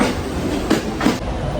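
Mumbai local train running, a loud steady rumble of wheels on rails with a couple of rhythmic clacks over joints, heard from inside the carriage.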